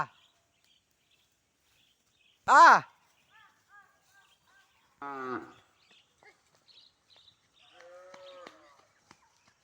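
Cows mooing: one loud, sweeping moo, followed by a shorter call and then fainter, more distant lowing.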